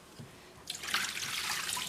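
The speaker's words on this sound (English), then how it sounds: "Then I drain it." Water rushes from washed potato cubes as they drain, a faint, steady splashing that starts abruptly after a quiet moment and continues without talk.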